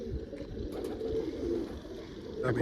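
Pigeons coo in a low, continuous murmur close by, with a brief rustle or flutter toward the end.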